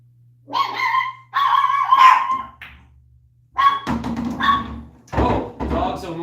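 Dogs bark and yip in several loud close bursts, some with a whimpering edge, in a room where pool is being played, with brief pauses between barks.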